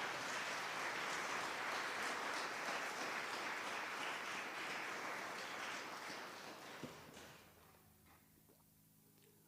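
Applause from a church congregation, a dense steady patter of many hands that holds for several seconds, then thins and fades out near the end, leaving a quiet room.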